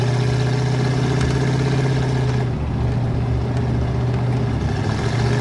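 A 1984 Chevrolet K5 Blazer with a 350 V8 idles while warming up, a steady, close, low rumble that holds evenly throughout with no talking.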